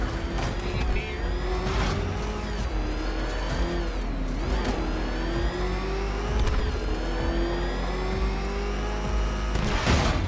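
A car engine in the video game Arkham Knight revs and whines steadily, pitch rising and falling with acceleration, with brief mechanical bursts and a continuous drone throughout.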